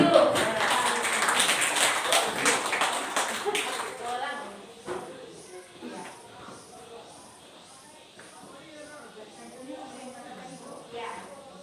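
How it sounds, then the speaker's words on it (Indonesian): Classroom applause for a teacher, Bu Evi, during a teacher-training session: dense clapping for roughly four seconds, then fading into scattered taps and shuffling with a few voices in the room. "kasih aplaus untuk Bu Evi dulu"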